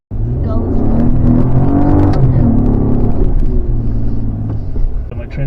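A 2022 Chevy Colorado ZR2 Bison labors in deep sand at Sand Hollow, its engine droning loud and steady with rising and falling strain throughout, close to the listener.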